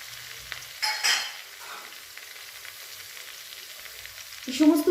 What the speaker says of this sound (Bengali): এই সমস্ত উপকরণগুলো একটু ভাজা ভাজা হবে।